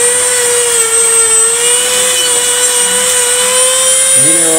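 A loud, steady high-pitched whine of a rotary power carving tool cutting wood on a bonsai runs continuously, its pitch dipping briefly near the end.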